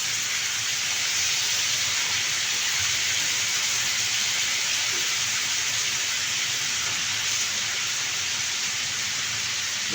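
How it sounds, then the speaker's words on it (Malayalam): Chicken pieces frying in melted butter on a tawa give a loud, steady, close hiss of sizzling that holds evenly throughout. "അതിൽ നമുക്ക് ഈ ചിക്കൻ പീസുകൾ ഇട്ട് കൊടുക്ക"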